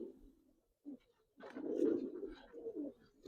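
A Giribaz pigeon gives a short, low, throaty coo, then a longer rolling one, faint and close with no voices.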